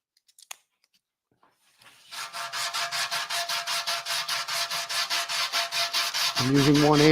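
Hand sanding with 180-grit sandpaper on a firm rubber board, knocking down high spots on a tank: after a few faint taps, steady rhythmic back-and-forth rasping strokes run close and even, with a higher scrape joining at the end.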